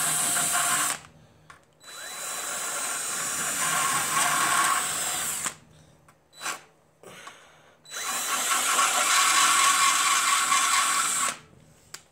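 Carbide bit grinding on a Scion xB car fender in a home garage: two long loud bursts of rotary tool grinding separated by brief pauses and short blips, no talking.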